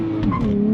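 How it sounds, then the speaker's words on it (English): A 2023 Nissan Z chirps its tires on a hard launch, a short squeal riding over the loud engine note, brief and close. "chirping tire is a happy tire"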